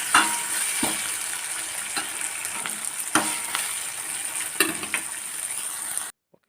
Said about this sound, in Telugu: ఒకసారి కలుపుకొని